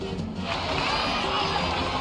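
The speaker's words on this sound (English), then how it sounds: "Let's give a huge round of applause to our brave young warrior, Kachina!" A crowd in Genshin Impact breaks into a short burst of cheering, with mixed shouts blending together at a moderate, steady level.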